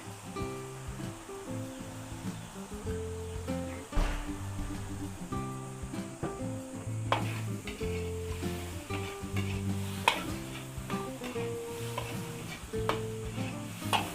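Filipino pancit vegetables, carrots, cabbage and green beans, stir-fry with pepper, chicken powder, oyster sauce and liquid seasoning in a pan, giving a soft, even sizzle under scraping stirs and occasional clinks, with faint background music.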